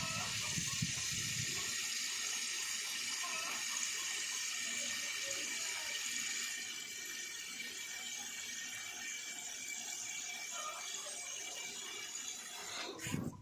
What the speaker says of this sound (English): So we'll put a bit more water in this one.